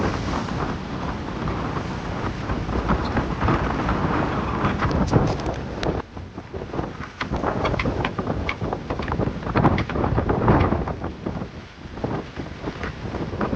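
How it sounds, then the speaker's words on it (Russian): Strong wind of up to 25 knots roaring and buffeting continuously against the microphone while under sail with the mainsail raised, with rushing water beneath, loud and close throughout. "Ветер задувает до 25 узлов."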